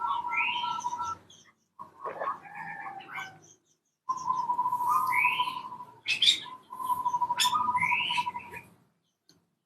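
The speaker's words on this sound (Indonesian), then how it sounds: "suara burung." Several aviary birds chirp and whistle in lively bursts with brief pauses, bright tweets layered over a steady sung tone, close by.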